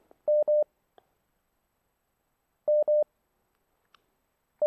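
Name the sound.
telephone call signal after a call drops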